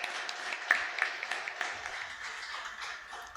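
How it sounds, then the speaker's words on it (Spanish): A church congregation applauds at a Sunday service, a soft, diffuse wash of many hands clapping at a moderate distance, steady for a few seconds. "Dale un fuerte aplauso al Señor."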